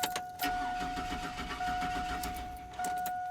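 A 2002 Chevy Silverado with a no-start fault cranks without catching, the starter turning over in a steady churning drone that breaks and resumes a few times, close and fairly loud, with a constant whine running underneath.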